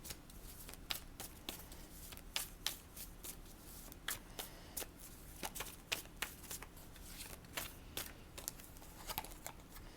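Tarot cards being shuffled by hand, soft repeated riffling and flicking bursts in an uneven rhythm, close up and quiet, with no voices.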